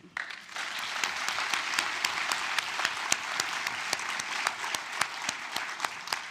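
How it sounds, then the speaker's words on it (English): Audience at an annual meeting's opening ceremony applauds the organizing team, a broad sustained round of clapping with distinct sharper claps popping through, steady and moderately distant. "join me in applauding this incredible team that made this possible"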